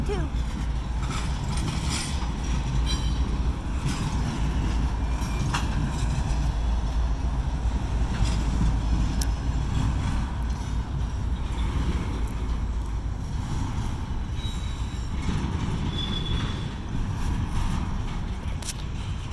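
A double-stack crate freight train rolls past close by in a steady, loud rumble of wheels and cars. Brief metallic squeals and clanks cut in at times.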